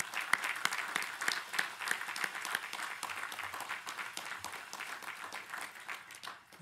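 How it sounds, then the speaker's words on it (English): Audience at a graduate commencement ceremony applauds steadily with dense clapping, moderately distant and sustained for several seconds before tapering slightly. "let's give them a very special round of applause."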